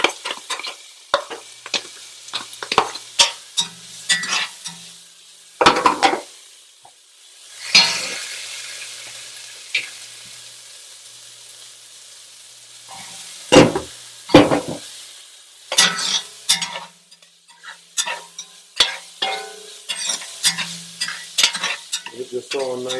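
Minced garlic sizzles in a hot pan while a utensil stirs it, giving repeated scraping strokes over a steady frying hiss, close and fairly loud, with brief quieter pauses between bursts of stirring.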